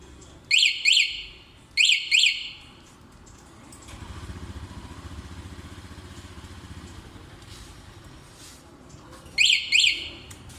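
Sharp paired electronic chirps from a Honda Zoomer-X scooter anti-theft alarm sound in short bursts at the start and again near the end, with a low engine idling in between.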